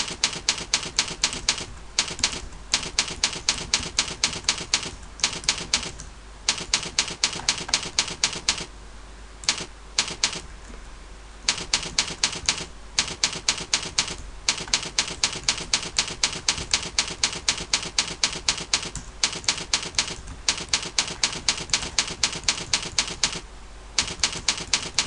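Rapid, continuous keystrokes on a computer keyboard type the body of an email, with crisp close clicks in bursts separated by brief pauses.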